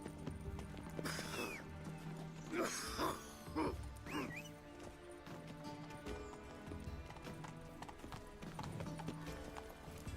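Hoofbeats of Roach, the horse in The Witcher 3 video game, clopping rhythmically at speed with a few whinnies, set against a steady game soundscape and continuing through most of the stretch.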